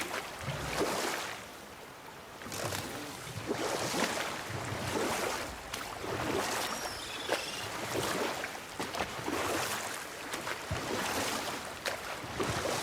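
A boat is rowed across water in God of War, with rhythmic oar strokes and gentle lapping waves rising and falling under a faint breeze. No one talks.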